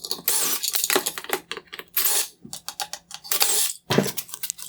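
Phillips head screws being backed out of the turn signal reflector on a 2013-2015 Infiniti QX60/JX35 bi-xenon headlight, with close, dry clicks, scrapes and small plastic knocks coming in irregular bursts separated by short pauses.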